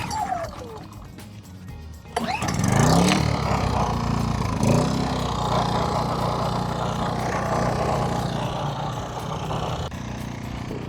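A portable generator engine, choke set, catches on the first pull-cord start and settles into a loud, steady running drone with faint clatter, close by at a hot boondocking campsite with an RV.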